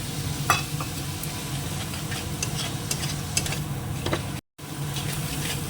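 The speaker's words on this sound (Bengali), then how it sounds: "রসুন বাটা কাঁচা সব মশলাগুলো আগে একটু ভেজে নিই তাহলে কাঁচা গন্ধটা চলে যাবে দিয়ে দেবো টমেটো বাটা" Garlic paste, spices and tomato paste fry in a pan with a constant close sizzle, broken by clinks and scrapes of stirring and one brief dropout.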